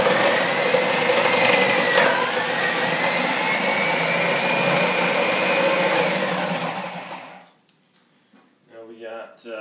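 A Hamilton Beach Professional 14-cup food processor runs with a loud, steady whirring motor roar that winds down and stops near the end, followed by brief quieter handling noises.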